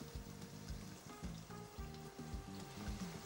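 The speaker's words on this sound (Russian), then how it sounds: "Теперь добавляем и поджариваем бекон." Bacon frying in a pan, a quiet, steady crackle and sizzle with faint repeated stirring or scraping sounds throughout, heard close with no voices.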